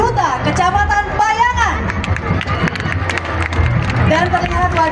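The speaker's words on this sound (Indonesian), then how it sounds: "berikan tepuk tangan untuk Duta Kecamatan Payangan" Crowd at a Balinese ogoh-ogoh parade performance clapping amid loud chatter and babble, with an announcer's voice carrying over the applause throughout.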